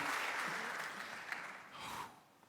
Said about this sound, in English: I'd like to give her a round of applause and celebrate her tonight as well